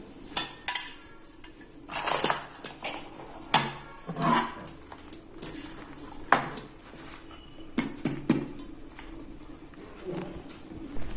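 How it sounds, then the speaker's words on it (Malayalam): Eggless fruit cake being moved onto a plate, with a scatter of clinks, taps and scrapes of dish and utensil, sporadic and close, over a quiet room background with no talk. "ഈ പ്ലേറ്റിലോട്ട് അത് മാറ്റാം."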